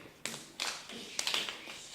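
Children clapping a rhythm of quarter notes in a classroom, four sharp, evenly spaced claps of moderate loudness with slight ragged overlap between them.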